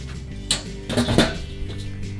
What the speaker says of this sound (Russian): Накрываю крышкой.